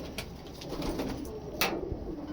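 A pigeon coos softly and low in a quiet room, in a couple of short murmuring phrases, with a few faint clicks and rustles nearby.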